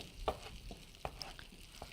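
Cumin seeds sizzle in hot ghee, a faint steady frying hiss with a few soft pops and crackles scattered through, quiet and close with no voices.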